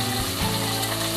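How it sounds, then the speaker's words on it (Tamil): Onions frying in hot ghee for fish biryani give a loud, continuous dense sizzle with a steady crackling texture, close and alone. "இப்போ வந்து வெங்காயம் போட போகிறேன். நெய் நல்லா காஞ்சிருச்சு,"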